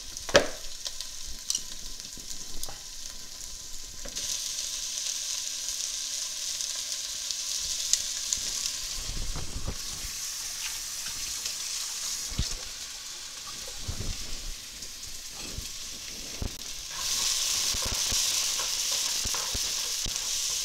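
Onion fries in a pan, a steady crackling sizzle with occasional stirring scrapes and clinks, fairly close and without talk.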